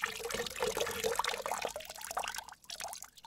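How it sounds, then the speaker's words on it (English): Water poured into a pot in a campfire potion-making setting: a continuous close splashing trickle with small drips, steady and moderately loud, thinning toward the end. "we're going to need to add a little bit of water"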